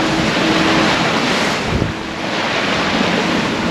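Strong wind roars across the microphone aboard a sailboat at sea in about 28 knots of apparent wind, with the rushing wash of waves against the hull, loud and continuous throughout.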